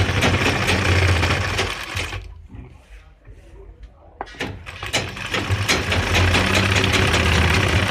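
A sewing machine stitches a pant pocket with a loud, steady, close whir that stops for about two seconds, then starts again and runs on.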